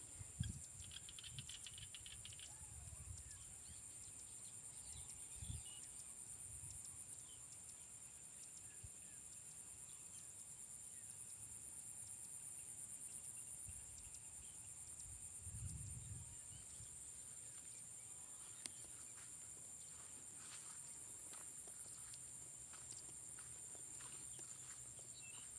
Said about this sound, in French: c'est les grenouilles qui s'appellent